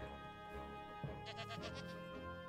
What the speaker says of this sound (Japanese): え、ヤギいるの？